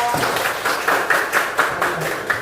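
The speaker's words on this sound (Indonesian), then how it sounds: "Kasih tepuk tangan dong." Classroom of students clapping for a classmate called up front to lead, a short run of loosely synced claps with some voices mixed in.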